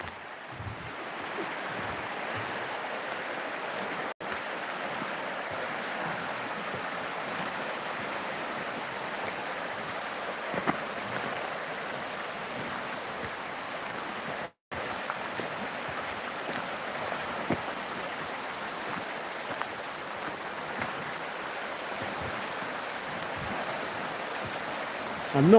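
The River Earn flows beside Lady Mary's Walk near Crieff with a steady, close rushing of water that stays even throughout, broken by a brief dropout midway.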